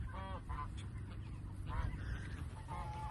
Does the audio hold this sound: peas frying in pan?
no